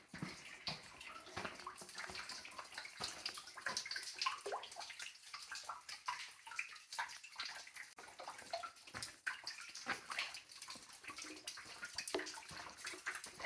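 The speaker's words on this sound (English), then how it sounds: "Ah, here's where the water's dripping." Water dripping inside a cave, quiet and irregular, a scatter of small drips and trickling with soft gurgles over a hushed background.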